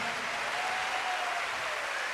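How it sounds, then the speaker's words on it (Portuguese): Church congregation at a Catholic youth gathering applauding young people, a steady even wash of clapping heard at moderate distance with no voices on top. "Pode aplaudir com força os nossos jovens aqui."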